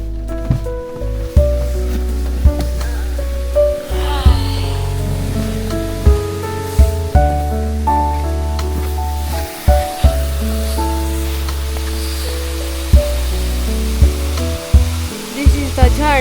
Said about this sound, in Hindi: चलो आपको झरना दिखाएंगे बीच में।